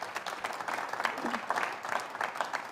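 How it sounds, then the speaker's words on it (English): A business meeting audience breaks into a steady ripple of clapping from many hands, moderately loud and even throughout, with a brief voice heard over it. "Applause."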